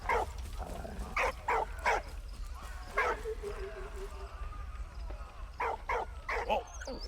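A dog in the WWI video game Valiant Hearts: The Great War barks and yips in repeated bursts, some in quick pairs, over a low rumbling game background.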